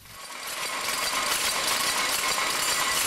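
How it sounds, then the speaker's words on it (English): A Cowburn and Peck's loom drop box motion runs with a dense, continuous mechanical clatter and whir, rising in the first half second and then holding at an even level. "we can see the working of the Cowburn and Peck's drop box motion"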